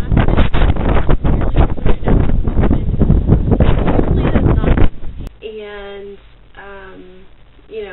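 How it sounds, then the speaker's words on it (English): Strong hurricane wind roars and buffets the microphone for several seconds, then drops away as a voice speaks over softer background noise. "there was a lot of wind here."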